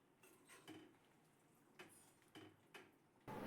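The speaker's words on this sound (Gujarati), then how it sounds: "ચણા નાખી દીધા છે અને હવે આપણે આમાં મિક્સ કરી અને થોડી વાર પાકવા દઈએ" Green chickpeas being stirred in a cooking pot, with a few soft scraping and clinking sounds of a spoon against metal spaced apart, fairly quiet, ending in a louder clatter.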